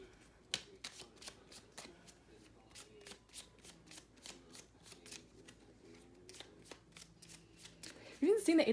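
Tarot cards being shuffled in a run of quick, crisp riffling bursts, fairly close and moderately loud, with a person talking quietly underneath throughout.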